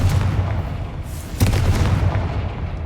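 A Confringo spell blast in the game Hogwarts Legacy goes off as a heavy booming explosion, with a second loud burst about a second later and rumbling low-end throughout.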